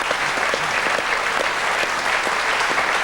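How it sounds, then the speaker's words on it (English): A studio audience on a TV football talk show applauds steadily for a couple of guests, a dense, even patter of clapping throughout, fairly loud and close. "Let's hear it for Leon Daphne and Justin Sharp"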